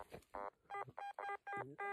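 A Garrett metal detector sounds a target signal as a series of short, bright electronic tones in a steady pulsing rhythm, faint and close with no talk over it.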